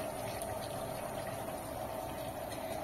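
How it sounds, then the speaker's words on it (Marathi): Steady rushing, gurgling stream of a bowl of water pouring continuously into a cooking pot of fried chicken for biryani, fairly close, with no voices. "एवढंच 1 वाटी पाणी मी आता त्या टोपात घालणार आहे"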